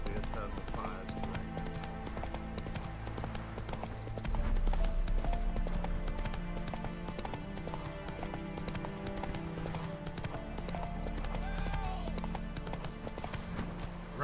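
Hoofbeats of Roach, the horse in The Witcher 3, clip-clopping steadily throughout amid game music and ambient noise, with a brief whinny-like cue and a louder swell partway through.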